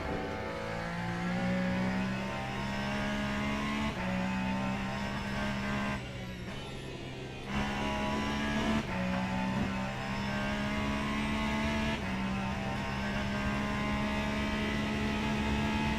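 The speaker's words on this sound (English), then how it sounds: "I am a fan of the Aston's Hypercar sound for sure." An Aston Martin hypercar engine in the Le Mans Ultimate racing game drones steadily, its pitch climbing through short gears with brief dips at each shift, a continuous up-close racing note with no talking.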